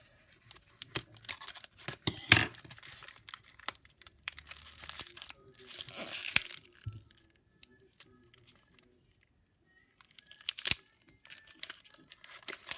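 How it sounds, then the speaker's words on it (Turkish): Scissors snip and crinkle through a gift package in short irregular bursts, with rustling plastic and pauses of near silence between cuts. "Şunu, şunu makasla açmamız lazım"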